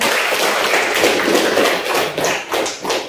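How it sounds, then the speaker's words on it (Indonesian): An audience claps together, dense and steady at first, then thinning into uneven bursts of hand claps over a few seconds. "Beri tepuk tangan dulu."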